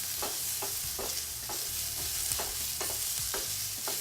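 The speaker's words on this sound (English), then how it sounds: "I just love the smell of sauteing onions" Onions sautéing in a pan, a soft continuous sizzle broken by regular scraping stirs of a utensil, close and fairly quiet with no talking.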